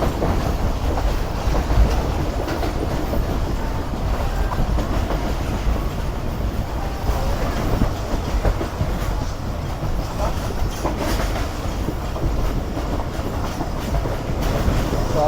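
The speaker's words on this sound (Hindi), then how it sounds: "अब ट्रेन अप्रोच में है टर्की रेलवे स्टेशन पर" The Islamabad Express runs on a mountain track approaching a railway station, a loud continuous rumble with rattling coaches and rhythmic wheel clatter throughout.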